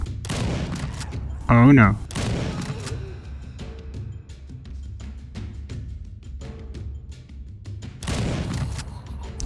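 Gunfire rings out in a first-person Game Guru video game: a loud burst near the start, then a scattering of sharper shots and a later flurry, while someone speaks briefly over it.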